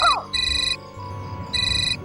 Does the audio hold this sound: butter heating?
no